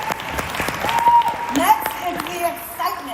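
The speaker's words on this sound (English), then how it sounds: "Give yourself a round of applause." Audience applause at a training session for new starters on a career path: a steady wash of clapping runs through the whole moment, mixed with a voice speaking over it.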